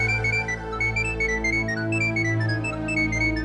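A phone rings in an office, a steady electronic ringtone with layered repeating tones that holds at even volume for several seconds with no speech over it.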